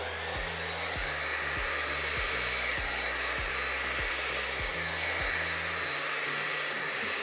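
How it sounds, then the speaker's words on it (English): A blow dryer runs steadily, close and loud, as it spreads resin paint during a Dutch pour painting, with a faint rhythmic low thumping beneath its constant hiss and no talking. "I'm using my blow dryer to just spread this paint around."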